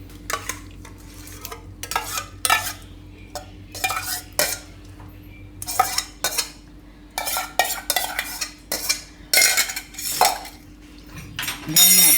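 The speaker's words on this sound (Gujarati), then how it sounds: "દહીંને આપણે થોડુંક ફેટી લેવું આ રીતે." A spoon whisks yogurt in a bowl for a Gujarati poha dish, making a rapid run of clinking, scraping strokes in bursts with short pauses between them.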